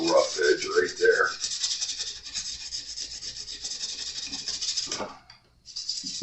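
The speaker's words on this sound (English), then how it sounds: "Make sure you're using a very light sandpaper. That way, when you get aggressive and start moving fast like I am, you're not cutting the fret anymore." Sandpaper rubbing along the frets of a Jazz Bass during a crown-and-polish job, a steady close rasping scrub that speeds up then stops briefly near the end before resuming.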